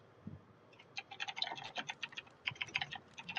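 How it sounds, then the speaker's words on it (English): Fingers type on a computer keyboard in bursts of quick, faint clicking keystrokes with short pauses, fairly close and without talking. "I think he's trying to type on his computer, not realizing that his internet's out."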